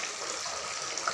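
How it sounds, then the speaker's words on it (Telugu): A decorative water feature in the garden of a Bangalore villa flows in a steady, even wash of splashing water, close and alone with no voices. "ఇది వాటర్ ఫాల్స్."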